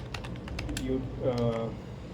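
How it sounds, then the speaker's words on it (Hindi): Rapid keystrokes clatter on a computer keyboard while a channel name is typed, a quick run of close, crisp clicks followed by a voice speaking. "मैं यहाँ पे टाइप कर रहा हूँ"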